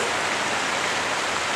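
Steady rain falls throughout as a dense, even hiss with no voices or other distinct sounds.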